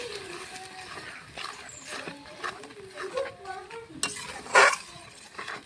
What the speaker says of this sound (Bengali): এখন মশলাটা কষাবো অনেকক্ষণ।